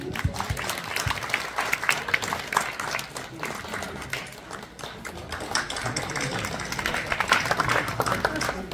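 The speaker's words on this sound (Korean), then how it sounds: "여러분 큰 박수 주세요." An audience applauds at a badminton club's 32nd anniversary tournament and president inauguration ceremony. The dense, steady clapping fills the whole stretch at a moderate, even level, with no speech over it.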